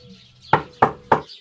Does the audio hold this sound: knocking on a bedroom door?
yes